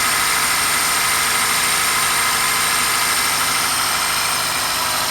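A 2003 Toyota Corolla engine idles after a misfire repair while warming up, giving a steady, close, even drone without noticeable stumbles and no speech.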